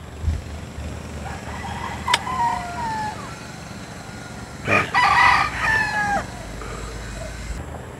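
Roosters crow repeatedly at a poultry expo, two distinct cock-a-doodle-doos rising over a background of clucking fowl and faint ambient noise.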